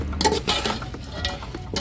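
A spoon stirs chicken biryani masala with lemon in a pot, giving close, continuous scraping and sizzling with occasional clinks against the metal.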